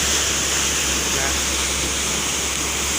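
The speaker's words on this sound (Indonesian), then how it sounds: "inilah teman-teman semuanya, namanya air terjun Sitaka" Sitaka waterfall near Tarutung, rushing water as a steady, dense roar that fills the whole clip at an even, fairly close loudness with no breaks.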